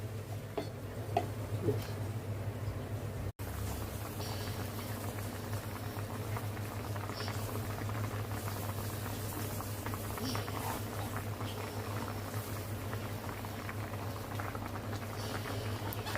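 Steady bubbling of a mixed fish curry simmering in a pot on the stove, a continuous soft gurgle and patter that runs throughout with no talking.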